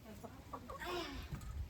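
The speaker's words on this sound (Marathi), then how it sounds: "कोंबडे आणलेले अक्काने गावरान कोंबड्या कोंबड्या आणले" Country chickens cluck in short bursts nearby, a quiet farmyard sound with low background noise.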